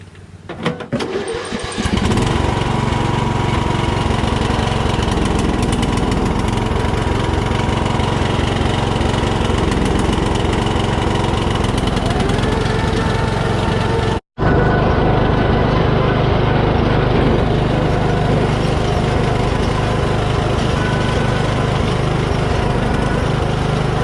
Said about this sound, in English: We do have a running tractor.